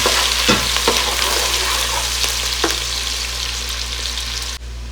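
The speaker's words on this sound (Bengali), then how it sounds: "ওই তেলের মধ্যে আমরা পেঁয়াজ দিয়ে দেবো পেঁয়াজটা ভেজে" Onions frying in leftover oil in a pan for a chicken bukhari rice dish, a steady dense sizzle with a few soft stirring knocks, close and continuous, no voices, cutting off just before the end.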